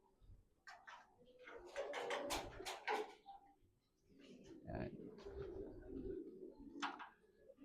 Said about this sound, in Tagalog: Yan yung mga ibon natin guys.